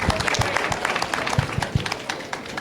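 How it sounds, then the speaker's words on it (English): A crowd applauds the president and cabinet at a youth conversation event, dense sustained clapping heard close and loud for the whole stretch. "Let us please give another round of applause for our president and the cabinet."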